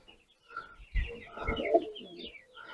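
Soft, low coos of a red-sided pigeon murmur close by in a short run of throaty, rolling calls.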